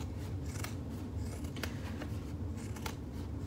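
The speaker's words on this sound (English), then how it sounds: "you have to watch me do some boring cutting with my scissors" Scissors trim the seam allowance on a sewn fabric bag, making a few faint, crisp snips over a quiet background hum.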